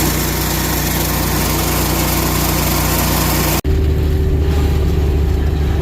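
Farm machinery engine running steadily and loud while cutting slough hay, a constant close mechanical drone that drops out abruptly for an instant near the end and then resumes with a lower, changed tone.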